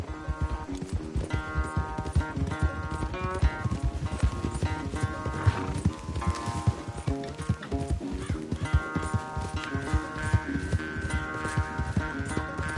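Horses gallop in a race in a video game, with rapid clip-clop hoofbeats and a whinny over a constant rhythmic backdrop, heard at close range for about thirteen seconds with no talk.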